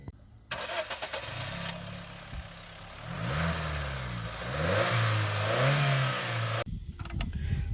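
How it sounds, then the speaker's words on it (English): A Honda Amaze with a 1.2 litre inline four-cylinder i-VTEC petrol engine cranks and fires, then settles and is revved a few times, rising and falling with smooth pitch sweeps close by before cutting off. "Let's start the engine."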